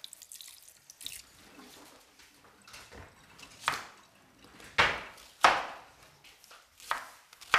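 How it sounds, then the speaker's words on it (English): A kitchen knife rinsed under a running tap during home cooking, with steady water flow and several sharp clinks and splashes as the blade knocks against the sink. "I think I'll rinse the knife."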